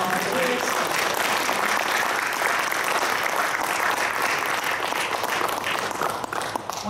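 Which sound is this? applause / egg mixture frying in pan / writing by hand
applause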